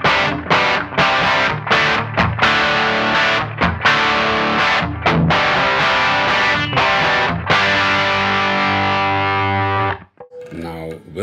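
Electric guitar through an amplifier's crunch channel plays loud distorted chords and strums with no chorus effect, in choppy rhythmic bursts that end on a ringing chord and then fall quiet.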